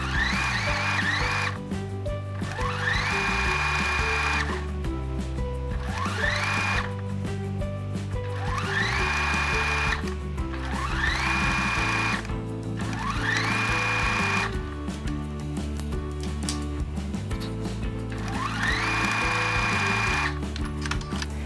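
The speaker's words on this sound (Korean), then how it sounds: "오늘은 이렇게 프릴 시접이 되어 있는 레이스이기 때문에 겉끼리 눌러 박아 줄게요." A sewing machine stitching a frilled lace trim to fabric face to face for a child's off-shoulder dress, running in loud, steady mechanical bursts with short pauses between seams, close up, with no voices.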